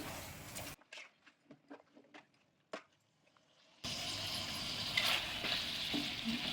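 Chicken and onions are stirred in hot oil: a few scattered scrapes and taps, then a loud, dense frying sizzle that holds steady to the end, heard up close with no voices.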